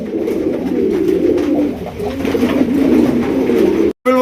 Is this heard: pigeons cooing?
yes